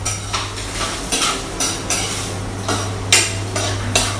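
Freshly cut fatty pork is stir-fried in a pan, with a steady loud sizzle under a low hum and repeated scraping strokes of a utensil against the pan about every half second. The sound is close and no one speaks.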